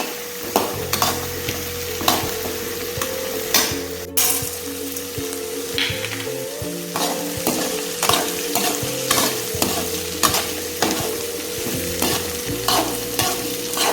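Coconut and roasted gram are lightly dry-roasted in a pan, heard as a soft sizzle under regular spatula scrapes and stirring clatter repeating steadily throughout, with a low background hum.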